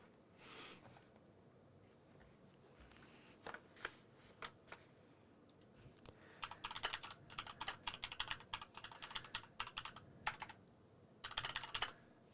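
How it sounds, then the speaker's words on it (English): Fingers tap on a computer keyboard in uneven bursts of quick clicks, close and fairly quiet, with brief pauses between runs of keystrokes. "I fat fingered that typing"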